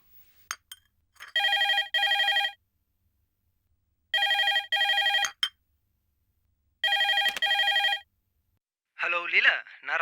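A landline telephone rings in loud double bursts, three rings spaced a few seconds apart with silence between, followed by a person starting to speak.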